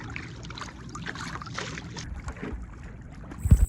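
A towboat's engine runs while it pushes an empty barge and turns on the Mississippi River in Tennessee, heard as a steady low rumble with wind and water noise and a brief louder thump near the end.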